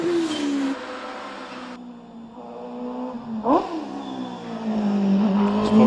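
A 1-litre OMS racing car climbs the Prescott hillclimb, its engine revving hard and shifting through gears in loud, rising and falling bursts. It sweeps past close by around the middle, and no one speaks.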